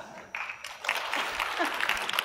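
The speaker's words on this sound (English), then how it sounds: "Pity laugh and clap." Light, brief clapping from an audience at a software presentation on ArcGIS Enterprise, a thin scattered patter that rises after a short pause and continues steadily at moderate distance.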